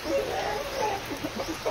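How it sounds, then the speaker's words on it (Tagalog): Rhode Island Red chickens cluck softly in short, scattered calls against a steady hiss of background noise, fairly faint and close by. "Rhode Island ko na mga manok."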